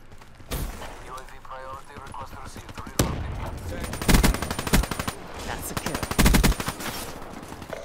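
Automatic gunfire from a Call of Duty: Black Ops 3 multiplayer match rattles in repeated loud bursts, mixed with sharper single shots, while players talk over the action.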